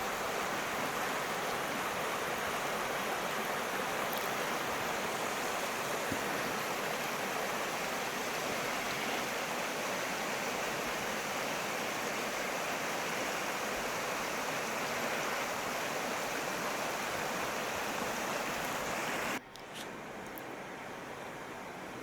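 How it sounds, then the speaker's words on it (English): Flowing water by the Skovmøllen mill in Århus, Denmark, makes a steady, dense rushing wash that continues unbroken before dropping off abruptly near the end. "Let's just enjoy the sound of the flowing water"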